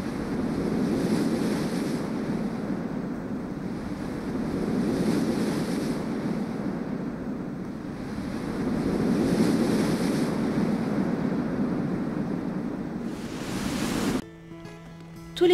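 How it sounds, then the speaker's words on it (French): Ocean surf crashes on the reefs of Rodrigues Island, a powerful, roaring wash that swells and recedes in slow surges, heavy wind buffeting the microphone, before a sudden cutoff near the end. "En haut des récifs, les vagues s'écrasent avec une puissance terrible."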